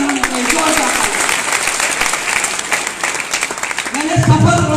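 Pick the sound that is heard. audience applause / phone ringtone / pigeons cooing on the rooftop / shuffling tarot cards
audience applause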